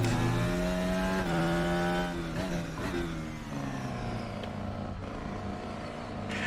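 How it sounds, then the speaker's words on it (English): Open-wheel race car, the FR X-22 in the RaceRoom racing game, with a harmonic engine note dropping off throttle and crackling on the overrun, steady and fairly close without talk. "I do love that cackle on the overrun. It sounds very good."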